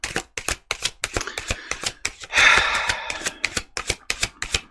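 Tarot cards are shuffled in quick bursts of sharp riffling clicks, with a longer whooshing bridge in the middle, close and crisp.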